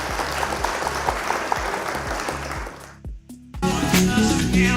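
Clapping hits in a quick, regular rhythm, loud and close, then drops out briefly before a burst of bright ringing tones and a denser noisy layer take over.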